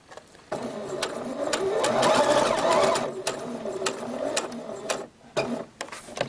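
A sewing machine stitches a reusable fabric produce bag, its rapid mechanical whir running steadily, then slowing and stopping briefly before starting again in short spurts nearby.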